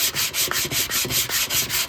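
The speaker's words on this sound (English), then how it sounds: "You can knock the top off with a sander" Steady rhythmic rubbing of a sander over Bondo body filler on a car body dent, close and continuous in even back-and-forth strokes, with no talk.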